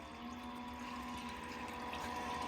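Steady rushing water flowing through a gold sluice after the flow is turned up slightly, a continuous broadband wash with no breaks and no speech, moderately loud and close.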